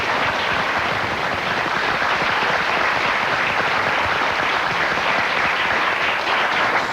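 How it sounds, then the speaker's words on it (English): A studio audience on a 1990s daytime talk show claps loudly in a dense, even wash that holds at full strength throughout, with no voices over it. "I want to applaud you for that"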